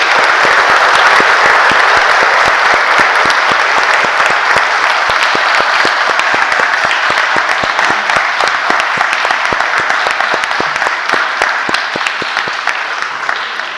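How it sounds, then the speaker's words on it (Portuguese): Sustained applause from a church congregation at a Sunday service in Balneário Camboriú, a dense, steady roar of many hands clapping close by for the full stretch, tapering slightly near the end. "Uma salva de palmas."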